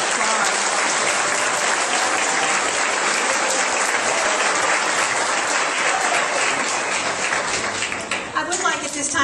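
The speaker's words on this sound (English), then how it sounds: "How about if we give our graduating class a round of applause?" A crowd at a kindergarten graduation ceremony claps for the graduating class, giving dense, loud, sustained applause that fills the room and thins out slightly at the very end.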